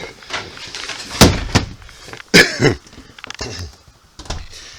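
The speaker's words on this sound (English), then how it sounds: "Let me shut my doors up here real quick." Camper doors are shut in a few close thumps and clatters, two sharp bangs standing out among softer handling knocks and rustles.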